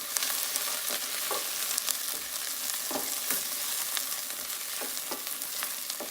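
Onions frying in a pan for a simple Indian dish, giving a steady, even sizzle with scattered soft pops and crackles close by, and no voices.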